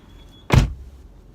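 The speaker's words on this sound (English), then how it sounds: "Close the door." A car door swings shut with a single solid thud, close by and short, in an otherwise quiet interior.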